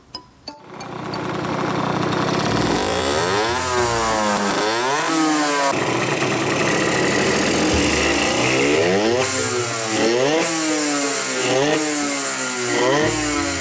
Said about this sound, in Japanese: エンジンが元気にかかっちゃいました